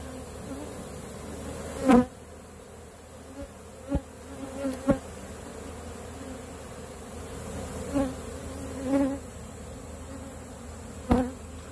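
A swarm of honeybees drones low and steady throughout, with a few louder buzzes passing close at irregular moments.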